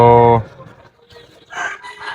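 A rooster's crow ends abruptly at the start, followed by softer clucking and faint farmyard noises.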